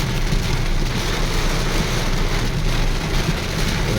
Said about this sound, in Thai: ฝนตกแรงมากครับ